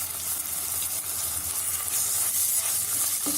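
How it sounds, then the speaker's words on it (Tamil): Ginger garlic paste sautés in a pan after the onions for Chettinad chicken chukka, a loud, dense, continuous hissing sizzle heard close with no talk. "இஞ்சி பூண்டு பேஸ்ட்டு போட்டு வதக்கிக்கணும்"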